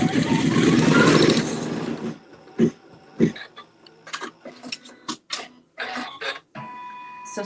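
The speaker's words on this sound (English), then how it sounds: "Let it stitch the seam" A sewing machine stitching a quilt seam runs in a loud steady whir for about two seconds, then stops and gives a series of short clicks and bursts of stitching.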